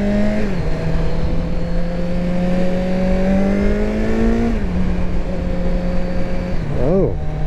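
A 2019 Kawasaki Z900 motorcycle engine running steadily while being ridden, a loud droning hum with gradual pitch shifts as the revs rise and fall, plus wind rush and a brief pitch swoop near the end.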